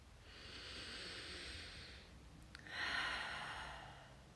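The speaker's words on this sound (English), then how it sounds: "take a deep breath" A long, deep breath drawn in and slowly let out, close and soft, with a steady airy hiss that swells near the end; no talking.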